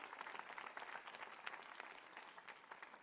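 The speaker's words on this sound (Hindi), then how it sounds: "तालियों के साथ इनका भी स्वागत।" An audience at a disability arts and skills exhibition launch applauds to welcome a visually impaired national judo gold medallist onto the stage, with a steady, moderately distant round of clapping throughout.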